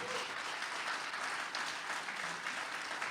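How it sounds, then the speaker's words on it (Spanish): Church congregation applauding during a sermon on the deity of Jesus Christ, a continuous wash of many hands clapping at a moderate distance, even and sustained for several seconds. "Si le vas a aplaudir, apláudele más fuerte."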